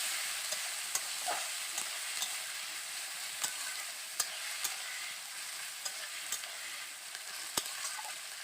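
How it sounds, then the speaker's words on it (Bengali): Grated onion frying in oil for an egg and potato curry, a steady close sizzle with scattered sharp clicks and stirring scrapes throughout, no talking. "এবার দিয়ে দিচ্ছি গ্রেট করে রাখা পেঁয়াজ প্রথমে আমি পেঁয়াজটাকে ভালো করে ভেজে নেব"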